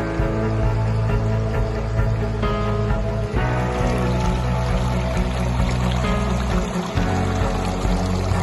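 Clear river water flows steadily and fairly loud across the whole stretch on a morning outing, with a dense, continuous rushing wash and no talking over it.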